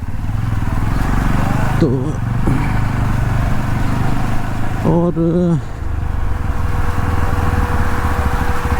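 Yazdi Roadster motorcycle riding through Delhi in the evening, its engine droning steadily and close throughout, with wind rush over the rider and brief stretches of the rider talking over the engine.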